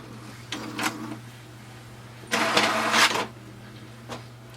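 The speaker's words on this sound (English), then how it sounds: "So you can see it has started to print." An HP Deskjet 3750 all-in-one printer starts a print job, giving a few short mechanical whirs and clicks and then a louder burst of feeding and carriage motion over a low steady hum, heard up close.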